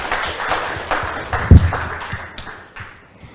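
An audience at a school debate claps in a short burst of applause, loud at first and tailing off over a few seconds, with one sharp thump partway through.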